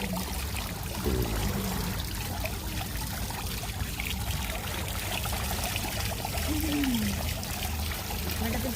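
Waterfall water pours and splashes continuously, a steady rushing flow with a few brief squeaky tones over it, close and fairly loud, near Bekal Fort.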